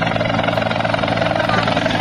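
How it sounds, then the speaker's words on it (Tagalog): A Philippine Air Force helicopter at Camp Aquino drones loudly and steadily with a dense rotor and engine roar, close by and continuous, with faint voices mixed in. "Sasaluhin natin yung helicopter."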